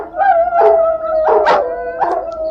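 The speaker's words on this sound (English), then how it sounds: "The wolves howled and whined and began to back away." Wolves howling and whining in a snowy wilderness as an audiobook sound effect; a long sustained howl runs throughout, overlaid by several short rising whines and yips, loud and close.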